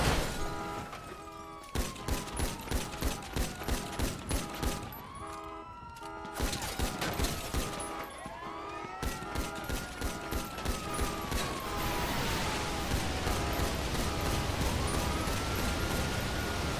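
Rapid bursts of gunfire ring out through a video game shootout with the Hades gang, repeated volleys crackling loud and dense across the whole stretch, with a wailing siren rising and falling beneath the shots.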